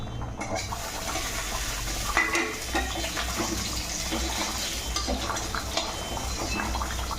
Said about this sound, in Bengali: এখানে ভেজে যাওয়া পটলটা আমি দিয়ে দিলাম